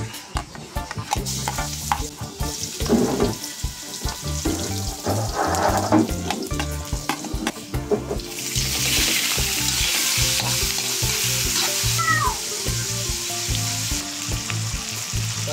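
Garlic frying in a pan for snail adobo (bisukol), a steady sizzle with stirring scrapes that swells into a dense, continuous hiss in the second half, close and fairly loud, with no talk.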